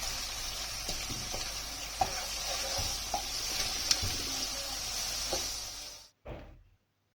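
Chicken for chowmein frying in a pan: a dense, steady sizzle with occasional stirring knocks for about six seconds, then it suddenly cuts out, returns with a brief burst, and fades to silence.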